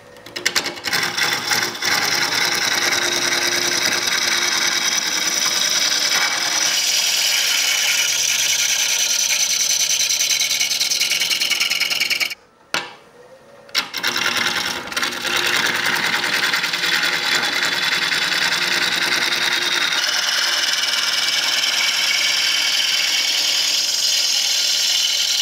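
A wood lathe turns a wet, natural-edged wooden bowl as the tool takes passes, giving a continuous close whirring scrape that drops away for a short pause midway, then resumes, with no talking.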